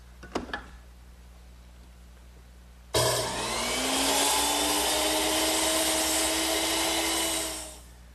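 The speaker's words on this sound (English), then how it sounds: "And I'll cut the ends of my piece over here on the miter box" A wooden workpiece has its ends cut on a miter box in a woodworking shop. After a couple of faint knocks, a loud motorized whine starts abruptly, runs steadily for about four seconds, then winds down.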